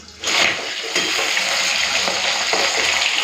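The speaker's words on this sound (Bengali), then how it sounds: "চলুন ধুয়ে নিই" Running water pours steadily as fish is washed in a home kitchen, a loud, close, continuous splashing hiss that starts abruptly and carries on without pause.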